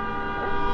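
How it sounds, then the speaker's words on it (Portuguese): A vehicle horn on a busy avenue blares as one sustained, steady honk, loud and close, lasting under a second. "Ó, alguém tem uma buzina boa."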